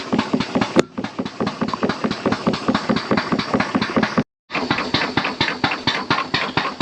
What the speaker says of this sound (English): Just pumping it out now, full of chloride